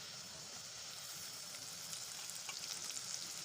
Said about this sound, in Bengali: এই যে লঙ্কা পেঁয়াজ আর গাজর এখন এবার ভেজে নিচ্ছি